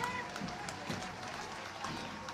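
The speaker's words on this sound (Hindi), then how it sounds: "नारी शक्ति के लिए जोरदार तालियां होनी चाहिए।" Crowd applause during an Independence Day parade in Sector 17, Chandigarh, as a female police platoon marches past the stage; a faint, steady, distant patter of many hands.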